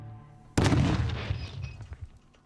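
Explosive charge set off outdoors to splatter paint for art, a sudden loud boom that fades into a long rumbling decay with a few trailing crackles.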